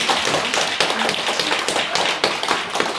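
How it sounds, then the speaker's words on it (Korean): Audience at a Buddhist dharma talk clapping together, a close, fairly loud patter of many hands lasting the whole moment without voices. "이거 박수 한번 쳐야 됩니다."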